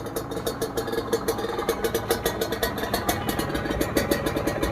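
Kawasaki KR150 two-stroke motorcycle engine idling steadily: a close, loud, even puttering with a regular rapid pulse and no voices.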